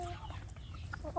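Free-range village chickens on a small-scale farm, clucking in a few soft, short calls at close range against a low background rumble.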